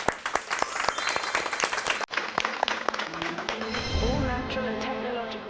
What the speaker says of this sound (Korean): 여러분 큰 박수로 청해 듣도록 하겠습니다